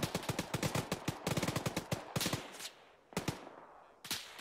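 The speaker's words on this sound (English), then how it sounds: "They're firing at the foot of our bunker." Video game gunfire aimed at a bunker, rapid automatic bursts of sharp cracks followed by a few spaced single shots that fade out toward the end.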